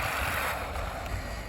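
Steady, loud whirring drone from a WLToys 124008 RC car's electric motor run at full throttle, a continuous broadband rush with no pauses.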